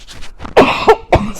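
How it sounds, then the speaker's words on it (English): A person coughs close to a new microphone in a few sharp bursts, loud and near, with no talking in between. "Excuse me for coughing."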